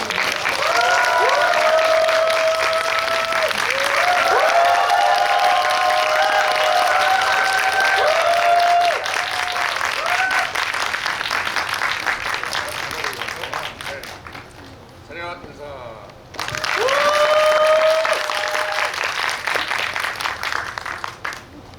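A cinema audience at Megabox COEX Theater 7 claps and cheers as the cast of the film Boss and director Jang Hang-jun enter for a guest visit, loud sustained applause with whoops and voices, fading briefly before swelling again.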